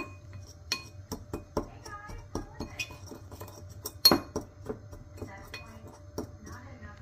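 A spice rub of salt and black pepper is mixed in a bowl with a utensil, giving a run of light clinks and scrapes at an uneven rhythm, close up and fairly quiet, with one sharper knock near the middle.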